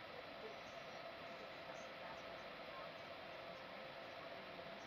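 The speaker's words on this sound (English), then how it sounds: "welcome aboard the Amtrak train number 150 on route to Boston Back Bay" Interior of Amtrak train 150 running from New London toward Boston Back Bay, a constant low rumble of wheels and carriage noise that stays steady and moderately quiet the whole time, with no speech.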